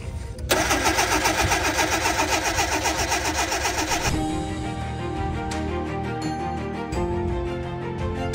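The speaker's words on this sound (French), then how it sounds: "la 4L elle a un peu de mal à démarrer le matin" A Renault 4L engine cranks and catches on a cold morning at a desert bivouac, with a loud starter whir that breaks into a steady running idle with mechanical clatter, alone without talk.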